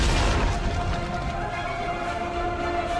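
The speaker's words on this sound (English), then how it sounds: "Man, that's a lot of explosions." Dense, continuous rumbling blasts fill a battle against a Reaper destroyer in the video game Mass Effect 3, loud and sustained with no pauses between impacts.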